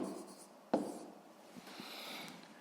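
Pen writing on paper during a physics lesson, faint scratchy strokes with one sharper tap near the start and a few light marks later, quiet and close with no talking.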